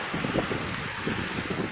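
Wind buffeting a microphone outdoors at a seaside cliff in England, a constant rushing roar with low gusty thumps.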